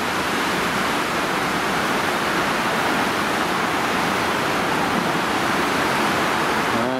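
River Ogmore in high, fast flow rushing over a weir: a steady, loud broadband roar of churning water that holds without a break, close by and alone.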